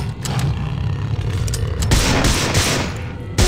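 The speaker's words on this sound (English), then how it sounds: "Basically, it's a worm-powered cannon." A worm-powered cannon fires in a video game as a loud, rapid volley of booming shots, a dense roaring barrage that swells louder in the second half, with no talking.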